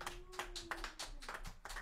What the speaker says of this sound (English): How about a round of applause for the great Glenn Pearson?